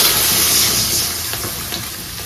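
Water is poured into a pan of frying panch phoron spices, giving a loud close hiss and bubbling sizzle that gradually softens as the liquid settles, with no voices.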